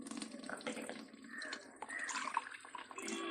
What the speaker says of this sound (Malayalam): ഈ അടപ്പും കൂടി കഴുകി നമുക്ക് നന്നായിട്ട് വെള്ളം വീട്ടി കൊടുക്കാം.